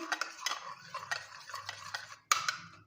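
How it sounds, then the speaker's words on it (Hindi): A spoon stirs yogurt with food colouring in a bowl for chicken tikka, making close, repeated light clinks and scrapes against the sides in an irregular rhythm, with one sharper knock near the end. "अब हम इसको इसमें मिक्स कर देंगे"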